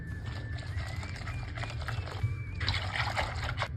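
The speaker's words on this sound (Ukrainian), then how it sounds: "Перемішуємо все до однорідності." A spoon stirring yeast, sugar, flour and warm water together in a bowl for dough starter, making rhythmic close clicks and wet scraping that grow busier toward the end, with no speech.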